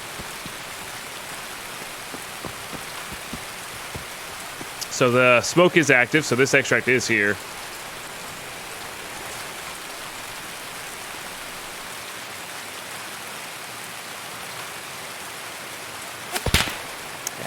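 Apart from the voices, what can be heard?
rain in the video game Escape from Tarkov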